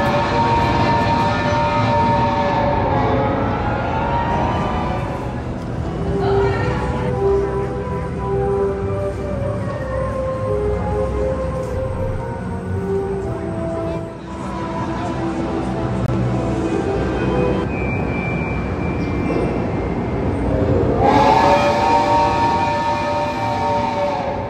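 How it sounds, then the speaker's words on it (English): A ride train rolls through a Universal theme park, producing a loud, continuous rumble with tonal whistle-like bands rising and falling, and faint crowd noise underneath. "All right, let's get on the train."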